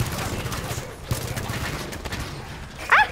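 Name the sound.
auto turrets firing in the video game Halo 5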